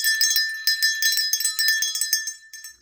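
A bright notification bell sound effect rings out in a quick series of clear metallic chimes, loud and alone, with no voices.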